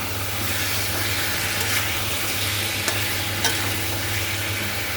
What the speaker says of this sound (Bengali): কষানো হয়ে গেছে মশলাটা অনেকক্ষণ ধরে কষাচ্ছে